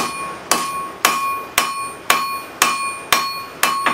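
Hammer strikes a railroad spike on an anvil while a hatchet or tomahawk is forged, eight sharp ringing metallic blows at a steady half-second rhythm, each one loud and close with a brief bright decay.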